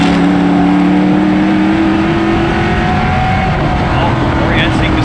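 Race cars roar loudly off a green-flag start, engines revving hard as they accelerate together, with an announcer talking over the pack's noise.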